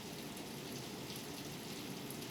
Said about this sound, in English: I started hearing the rain through the microphone.